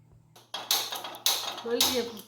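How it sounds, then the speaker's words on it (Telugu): A metal bandi pan is set down on a stove while making rava payasam, giving a few sharp clanks and scrapes close by, with a low background hum. "స్టవ్ పైన బాండీ పెడుతున్నాను"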